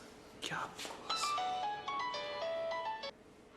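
A bright electronic ringtone melody of short stepped beeps plays for a few seconds, fairly close, with faint background noise.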